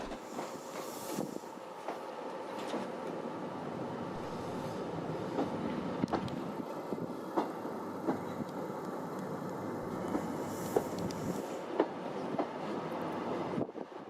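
Caledonian Sleeper train rolling across the remote Rannoch Moor in Scotland, a steady continuous rumble of wheels on rail with repeated faint clicks and clanks, heard close and unbroken throughout with no talk.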